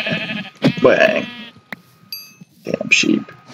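A Minecraft sheep bleats loudly up close, followed by a short click and a second wavering bleat a moment later.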